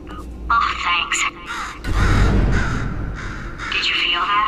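A bird in the video game Portal 2 caws several times in loud, close bursts, with a game character's voice talking over the calls and a rumbling noise midway.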